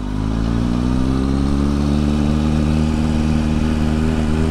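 A motorcycle engine pulls away in first gear, a steady, loud, throaty drone with a low rumbling tone that holds even and close throughout.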